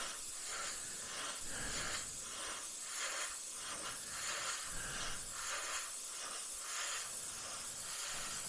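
A steady, quiet airbrush hiss lays down a second wet coat of paint from a Gaahleri Kaleido Colorworks paint system, a continuous airy spray with slight pulsing.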